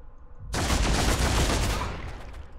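In the video game Deathwatch: Tyranid Invasion, a sudden loud burst of gunfire erupts after a half-second of quiet, then tails off into a rumbling decay.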